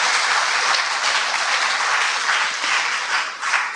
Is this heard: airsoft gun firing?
no